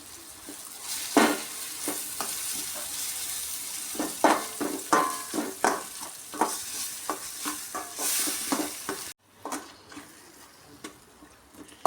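A ground paste of onion, coconut, garlic, ginger and coriander fries in a pan for a crab curry, with repeated sharp stirring scrapes and a steady sizzle, close and fairly loud, no talking.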